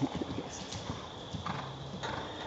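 Hooves of a large warmblood horse clip-clopping at a walk, soft irregular thuds fairly close under a steady background hum, with no talking.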